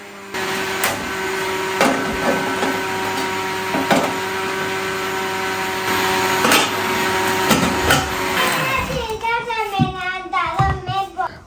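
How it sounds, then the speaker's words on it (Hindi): A blender whirs steadily for several seconds while mixing cake batter ingredients in a home kitchen, a loud continuous motor drone; near the end the motor cuts off and a voice begins speaking over a clattering sound. "अच्छी से इनको 5 से 6 मिनट के लिए ब्लेंड करूँगी।"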